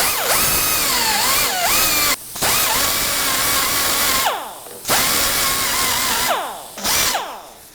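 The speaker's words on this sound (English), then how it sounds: "I'm going to reach in here with the rotary burr and go ahead and grab some of that down in there." A rotary burr grinds metal inside a manually built 3D-printed metal part, whining loudly in sustained bursts with shifting pitch and brief pauses between passes.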